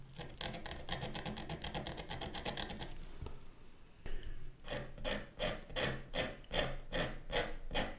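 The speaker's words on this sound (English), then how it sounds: "I will use my palette knife just to scrape off some light" A palette knife scrapes oil pastel off paper, first in a fast run of rough rasping strokes, then after a short pause in slower, evenly spaced scrapes. It is close and fairly quiet, with no talking.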